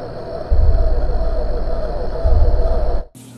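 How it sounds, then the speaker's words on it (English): A low, eerie droning pulse of slowed-down crickets, murky and continuous with two heavier swells, cutting off abruptly near the end. "One of the real creepy sounds is actually just crickets slowed down."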